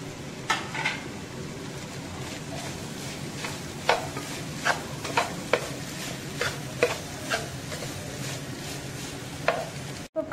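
Vegetables with capsicum being stir-fried for home-style chicken egg fried rice: a steady sizzle punctuated by a dozen or so sharp spatula scrapes and taps against the pan at irregular intervals.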